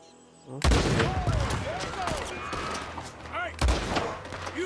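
Rifle and gunfire in a Wild West video game, heavy booming shots with lingering reverberant tails, loud and close, followed by further reports over game ambience.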